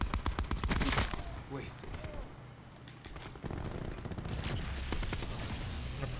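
Rapid bursts of gunfire from a weapon in Call of Duty Black Ops 4, loud and near, firing in quick rattling volleys across the whole stretch while a voice speaks briefly over the shots.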